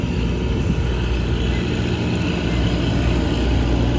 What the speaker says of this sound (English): that's the second tractor.